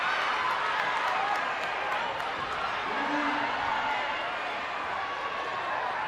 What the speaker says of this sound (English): crowd is having fun here on senior night, cheering on this Red Devil team